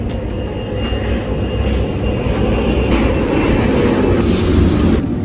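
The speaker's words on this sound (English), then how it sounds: "There are planes flying all around." Airplanes flying overhead produce a loud, continuous broadband engine roar that holds steady for the whole stretch, swelling slightly toward the end.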